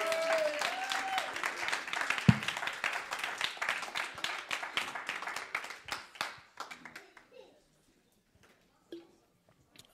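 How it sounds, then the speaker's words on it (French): A church congregation breaks into applause, a dense burst of many hands clapping that gradually thins and fades out over several seconds, with a few scattered voices mixed in. "Est-ce qu'on peut juste acclamer le Seigneur pour sa présence au milieu de nous?"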